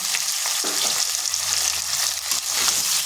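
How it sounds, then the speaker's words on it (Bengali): Steady, loud sizzling of potatoes frying with turmeric and salt in a hot pan, a continuous close crackle with occasional stirring scrapes and no voices. "এরপর আলুগুলোকে আমি 5 থেকে 6 মিনিট ভালোভাবে ভেজে নিচ্ছি।"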